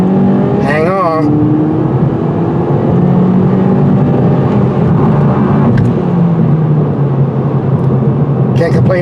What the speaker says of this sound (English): We'll just put it in the sport mode and take a quick run. Once that turbo kicks in,